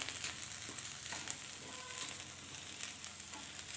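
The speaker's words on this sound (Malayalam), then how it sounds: "ഇനി ഇത് നന്നായിട്ടൊന്ന് ഇളക്കി ചിക്കി ഉടച്ചെടുക്കുക ഈ വെണ്ടയ്ക്ക എല്ലാം കൂടി ചേർത്ത് ഒന്ന് മിക്സ് ചെയ്തെടുക്കാം" Okra and egg thoran being stirred and broken up in a hot pan, with a steady close sizzle and soft scraping throughout, no talking.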